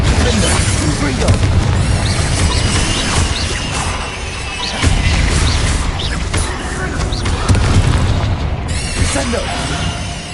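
Spell blasts and booming explosions in the video game Hogwarts Legacy, loud repeated bursts over dense, rumbling battle noise, with a voice shouting during the fighting.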